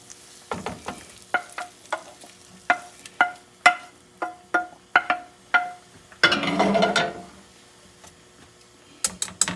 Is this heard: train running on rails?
no